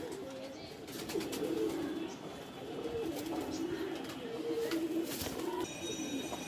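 Low, throaty cooing from Punjabi Malwai pigeons in a breeding loft repeats in steady phrases close by, while a person speaks faintly in the background.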